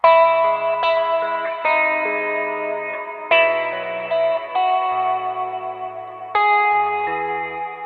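A guitar played through a filter effect on a Line 6 Helix, sustained chords and notes that swell and shift in tone, with several fresh strums across the passage and no talking.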